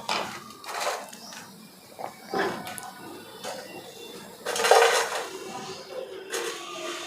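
Noodles tipped into a pan and stirred with a utensil, giving irregular scraping and clattering bursts of metal and cookware, close by, with one louder clatter midway and no clear talking.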